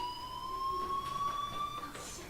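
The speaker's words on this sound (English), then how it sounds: "Hey, do you hear that fire alarm?" A school fire alarm rings in the video game Life is Strange, a steady electronic tone holding on without a break, moderately loud under faint background noise.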